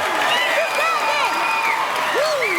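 A loud crowd at an American Ninja Warrior qualifier in Atlanta cheers and whoops continuously. Shrill whistles and rising and falling shouts ride over the noise with no pause.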